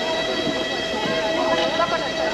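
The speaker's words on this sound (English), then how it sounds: "And the train is leaving." A train departing Urgench, Uzbekistan, rumbles steadily with a low mechanical drone and faint tonal hum, moderately loud and continuous, with muffled voices underneath.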